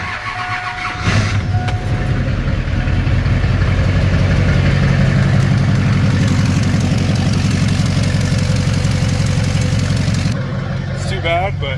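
A damaged race car engine runs loud and steady for about ten seconds after starting, with a rough, pulsing low rumble that cuts off near the end.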